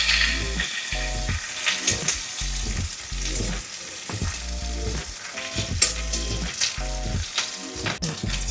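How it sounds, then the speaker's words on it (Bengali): Onion and two slit green chillies frying in a pan, a steady sizzle broken by rhythmic, repeated stirring scrapes from a spatula, with no talking. "পেঁয়াজ দিলাম, দুটো চিরা কাঁচা লঙ্কা দিয়ে ভালো করে এটা নাড়াচাড়া হচ্ছে।"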